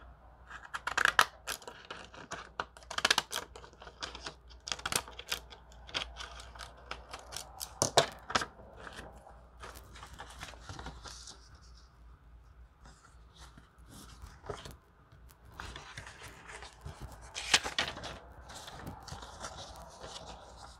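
Scissors cutting craft material for a Halloween party game pouch make repeated quiet snips and rustles with irregular pauses, close and soft.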